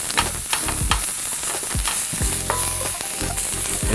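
Ginger and dried chili peppers stir-fry in a hot pan, a steady loud sizzle broken by repeated scraping and tossing clatters from the spatula, with no talking.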